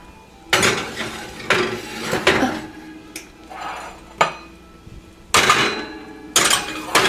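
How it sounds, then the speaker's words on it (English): A tray of gluten-free Mediterranean meat pies slid onto the lower rack of a hot oven, heard as several loud metallic clanks and rattles of tray and rack separated by short pauses, no voice. "now I'm going to put the meat pies in the oven. I'm going to put them on the lower rack."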